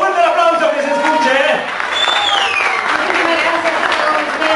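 Audience applause and crowd noise welcoming the group Tu Embrujo Latino on stage at an official videoclip presentation, a dense, steady wash of clapping with a bright tone sweeping through the middle, voices mixed in.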